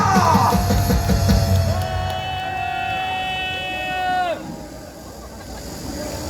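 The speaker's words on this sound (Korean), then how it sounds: "큰 박수를 보내주시기 바랍니다." A large rally crowd at a Gwanghwamun Liberation Day gathering cheers and yells loudly, with whoops and a sustained whistling tone rising over the roar before the noise drops back to a lower murmur.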